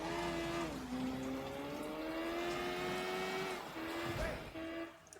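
A motorbike in the video game Sleeping Dogs, its engine droning steadily at a high pitch while it rides and swings around in a U-turn, the revs dipping and climbing again.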